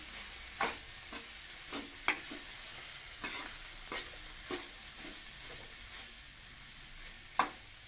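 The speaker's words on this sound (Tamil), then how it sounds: "அப்படியே வந்து நல்லா கிளறி விட்டுருவோம்" A spoon stirs beans poriyal with grated coconut and turmeric in a pan, giving a soft steady sizzle broken by about a dozen sharp scraping clacks at irregular intervals, close and fairly quiet, with no voices.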